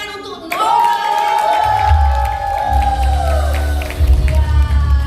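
Women's church service audience bursting into loud applause and cheering after a voice ends on a long drawn-out call, clapping sustained and steady right up close with whoops mixed in.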